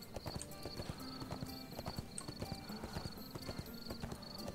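Horse hooves clip-clopping in the online game ArcheAge, a brisk, even trot of repeated hoof strikes under faint ambient game sounds, no voices over it.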